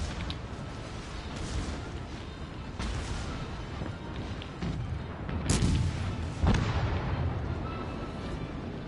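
Weapons firing in a naval video game, a series of muffled booms at irregular intervals over a steady rumbling background, heavier blasts toward the end.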